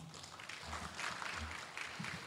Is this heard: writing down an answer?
no